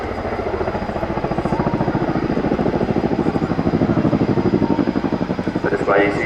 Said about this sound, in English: The display you see today really demonstrates how manoeuvrable this extremely large helicopter is.